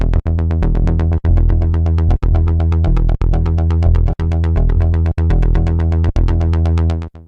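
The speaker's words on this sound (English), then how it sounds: "Let's add the Fibonacci chorus in." A Prophet 12 synthesizer plays a repeated, rhythmic chord pattern through a wide Fibonacci chorus effect, loud and full, with short regular gaps between the sustained phrases and no voices.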